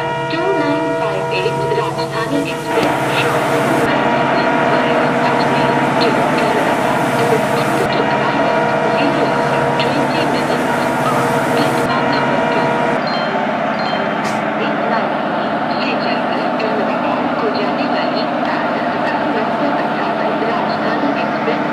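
A Rajdhani Express train in an Indian rail video game rolls toward a station platform with a steady, loud mechanical rumble and rail noise that drones on without pause, changing tone partway through, while a station announcement plays over it.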